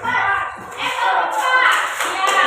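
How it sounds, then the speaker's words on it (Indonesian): Classroom group applauding, a close burst of clapping mixed with children's voices and shuffling, loud and fairly continuous. "tepuk tangan untuk kelompok 2"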